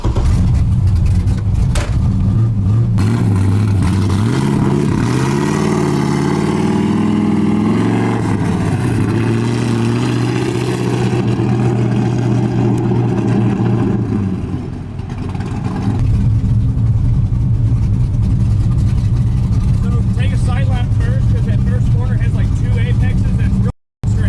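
A car being driven on a race track at a shootout event, its engine droning loud and continuous with rising and falling revs, while people talk over it throughout.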